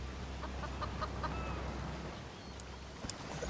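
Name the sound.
birds chirping in a video game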